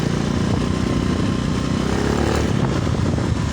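Yamaha Mio scooter engine running steadily on a test ride, a continuous loud buzzing drone with road and wind noise and no talk.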